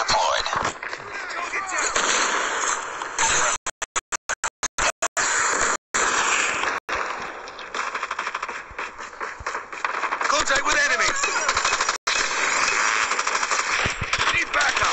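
Rapid automatic gunfire and bursts of shooting from the mobile shooter Call of Duty: Mobile, loud and nearly continuous, with brief gaps and a voice talking over it.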